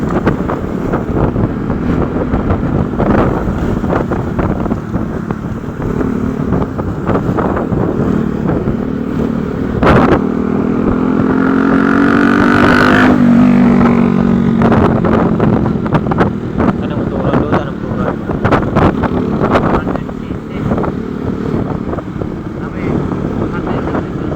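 A motorcycle engine drones steadily throughout on a night ride, with heavy wind rumble against the microphone, and a voice speaks intermittently over it.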